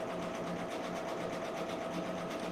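An embroidery machine stitching a design, giving off a steady, even mechanical whir with a fine rapid chatter that runs unbroken at moderate level, with no one talking.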